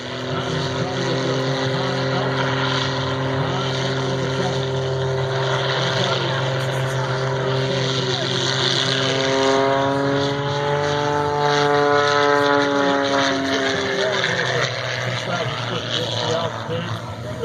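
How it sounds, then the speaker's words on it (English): A 330-horsepower propeller airplane engine drones steadily and loudly, its pitch rising and falling as it maneuvers, with a voice talking over it. "That's 330 horsepower engine cranking out."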